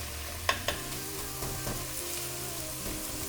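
Ground meat, still partly frozen, sizzles steadily in a hot pan while a whisk-like beater blade breaks it up, giving two sharp scraping knocks near the start and softer clinks later over the constant frying hiss.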